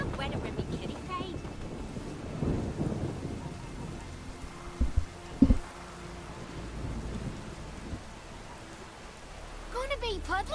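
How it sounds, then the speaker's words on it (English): Rain patters steadily in The Witcher 3 video game, with a couple of sharp thunder cracks midway and rumbling beneath, while voices talk over the storm. "Maybe we needed a spot of rain."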